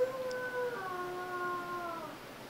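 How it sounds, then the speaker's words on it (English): A small dog howls in one long, wavering, drawn-out note that slides downward and then fades, close and clear over quiet room tone. "You hear my midget? She learned to howl."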